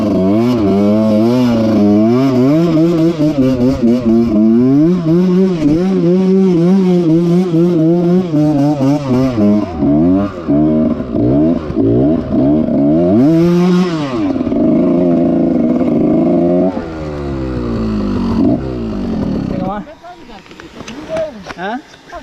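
A trail motorcycle engine revs hard and continuously on an off-road climb starting near a river, rising and falling in pitch as it accelerates, loud and close, with crowd noise mixed underneath.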